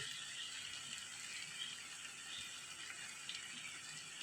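Fish frying in oil for a gravy-style fish fry, a steady dense crackling hiss that stays even and fairly close throughout with no voices over it.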